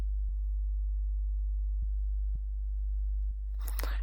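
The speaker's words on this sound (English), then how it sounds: "As you can see, we have again our original sine wave." A single pure low sine wave tone, a steady unbroken hum with a few faint clicks and a brief burst of noise near the end.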